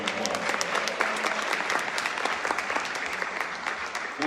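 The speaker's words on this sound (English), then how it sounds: "That deserves a round of applause." Audience round of applause at the Egyptian Theatre grand re-opening, many hands clapping in a large room with sharp individual claps standing out, sustained at a steady moderate level for several seconds.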